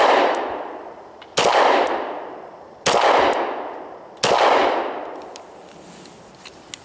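A Beretta 96 Brigadier Elite II pistol fires Federal HST 180-grain heavier loads: four sharp shots spaced roughly 1.4 seconds apart, the first fainter, each followed by a decaying outdoor echo.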